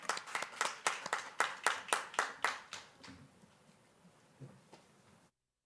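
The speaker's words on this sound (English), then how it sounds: "Let's applaud our graduates." Applause for graduates at a 2020 graduation ceremony: a brisk, evenly spaced run of sharp hand claps that is close and clear, then thins into a few softer, scattered claps before it stops.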